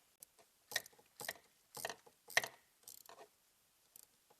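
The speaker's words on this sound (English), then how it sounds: "We can tighten up this bracket now." Wrench or ratchet tightening a bracket during a Forge blow-off valve install on a MK7 VW GTI: about eight short, close metallic clicks and rattles arriving in uneven bursts, with no talk.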